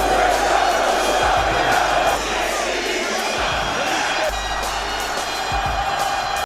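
A large wrestling arena crowd roaring and cheering for John Cena's entrance, a loud, dense and sustained wall of voices.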